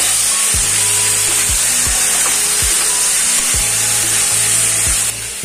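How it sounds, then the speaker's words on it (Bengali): Potatoes and onions fry in a pan for an egg roll filling, giving a loud, steady sizzle with soft, regular low thuds underneath and no talking. "এবার আলু আর পেঁয়াজটাকে ভালো করে ভাজা ভাজা করে নেব।"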